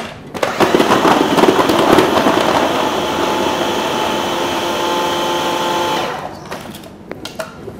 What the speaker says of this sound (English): I'm going to whiz this until it looks like fine breadcrumbs